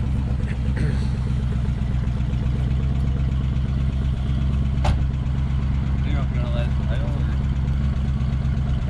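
A barn-find 1973 Chevy Chevelle SS 454 V8 runs on stale, bad gas, its steady loud rumbling idle continuous throughout, with voices talking faintly underneath.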